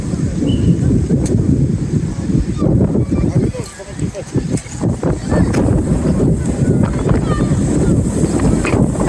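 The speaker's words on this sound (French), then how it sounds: "Il fait pas froid, mais il y a énormément de vent aujourd'hui." Strong gusty wind buffets the microphone at an outdoor youth football match, a loud rumbling roar that swells and dips throughout, with voices faintly audible underneath.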